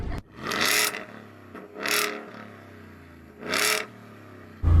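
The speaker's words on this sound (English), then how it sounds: "Shall we hear your car now?" A car engine at a monster truck show, with the Ford F-150 VelociRaptor R 6x6 and Hennessey Venom775 drag racing, revs in three loud rising bursts, each climbing then dropping back to a rumbling idle.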